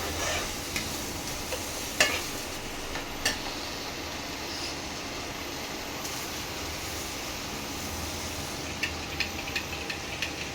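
Minced mutton masala fries in oil with a soft, even hiss, and a spoon occasionally knocks against the pot as it is stirred.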